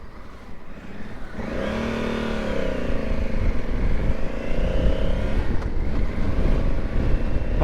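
A motorbike on a country road: the engine climbs from a low drone into a rising, revving whine that holds loud and close, then drops back into rough rumbling amid wind buffeting, with no speech.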